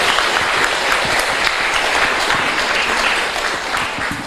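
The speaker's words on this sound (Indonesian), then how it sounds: "Silahkan beri tepuk tangan ke Pak Dokter ya" A roomful of people at a Buddhist meditation talk gives warm, sustained applause for a doctor, an OB-GYN. Many hands clap in a dense, even patter that stays loud and close throughout.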